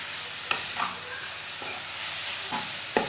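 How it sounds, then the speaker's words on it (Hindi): Carrots roasting in a pan for gajar ka gajrela, stirred with a spoon: a steady soft sizzle with a few sharp scraping clicks of the spoon against the pan, close and alone. "5 मिनट तक मैंने चम्मच चलाते हुए गाजरों को भून लिया।"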